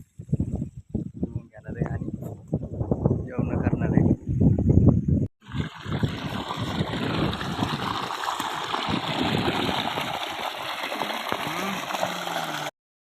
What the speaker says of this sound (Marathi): रोपाला पाणी भरायचं काम चालू आहे